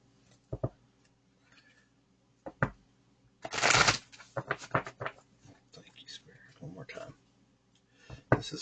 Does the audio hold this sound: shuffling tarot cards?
yes